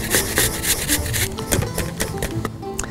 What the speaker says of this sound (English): We're going to use our grater and our Arkansas black.